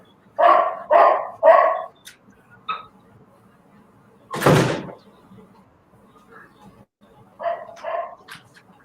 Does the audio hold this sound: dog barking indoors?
yes